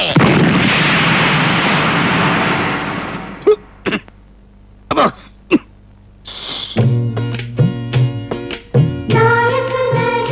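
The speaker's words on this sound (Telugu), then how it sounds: "బాంబు" A long, roaring bomb explosion rumbles for a few seconds, then several sharp, isolated bangs go off one after another.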